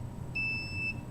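A microwave detector alarm gives a single steady high-pitched electronic beep lasting about half a second, clear over a low background hum.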